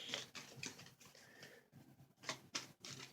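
Tarot cards shuffle with soft uneven flicks and slides, a series of quiet taps and rustles close by, pausing briefly midway.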